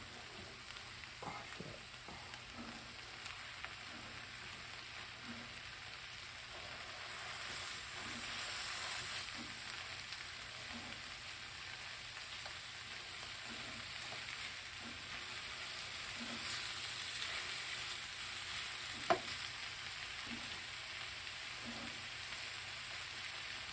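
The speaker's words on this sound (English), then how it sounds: "Let this stuff cook down. I'm gonna throw some of these onions on top." Steady sizzling of food frying in a pan during Mexican-style meal prep, a continuous crackling hiss with occasional stirring clicks as onions cook down.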